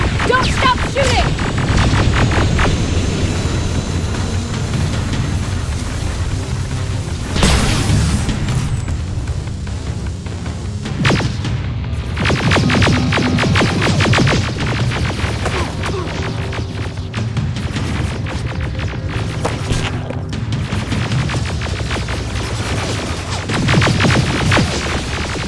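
Sustained gunfire and heavy explosions from combat in the Terminator Resistance video game, a dense, loud barrage of repeated shots and booms running throughout, with occasional shouted voices mixed in.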